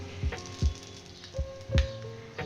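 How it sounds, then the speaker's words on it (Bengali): Lentil dumplings (bori) fry in hot oil, giving soft sizzling with a few sharp pops and crackles spread over a couple of seconds, close by and without talk. "এক দু মিনিট গরম তেলের মধ্যে বড়িটা ভেজে তুলে নেব"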